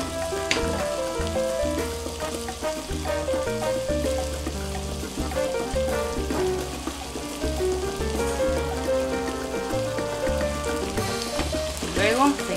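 Shredded dried beef (machaca) sizzling in a pan with precooked vegetables and potatoes for a Sinaloa-style caldillo, a steady, dense crackle and hiss that continues throughout with some stirring clatter near the end.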